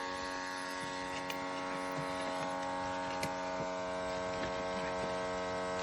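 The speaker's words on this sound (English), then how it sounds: "What we have here is a vacuum cleaner motor enclosed in a case that's supposed to reduce the noise" Vacuum cleaner motor enclosed in a noise-reducing case, blowing combustion air for a diesel furnace used to melt cast iron, giving a constant, moderately quiet electric hum with a steady tonal whine.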